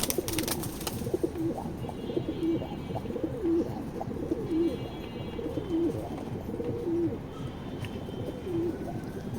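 A pair of racing pigeons coos steadily up close, with low repeated coos at an even pace over a constant background of other birds and a faint murmur.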